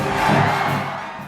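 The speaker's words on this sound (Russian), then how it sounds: "Гвен услышала просьбу толпы поцеловать героя" Film crowd chanting in unison, urging Spider-Man to kiss Gwen on a stage, a dense wall of massed voices that swells early and then gradually eases off.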